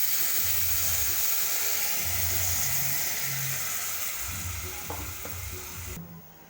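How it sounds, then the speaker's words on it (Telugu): Tamarind broth (pulusu) poured into a hot pan hisses in a steady, loud sizzle, with low stirring and bubbling underneath throughout, easing off and thinning near the end. "తర్వాత మనం పులుసు పోసుకుందామండి"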